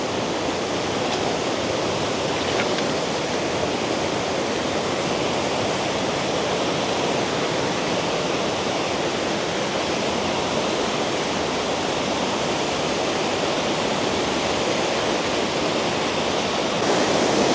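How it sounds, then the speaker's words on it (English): Waterfall spilling straight out of a mountainside in a cool canyon near the Intermitting Springs in Afton, Wyoming, a steady, close, full-bodied rush of water that never varies, with no voices. "how often do you see a waterfall in a cool canyon like this, but it just comes out of the mountainside"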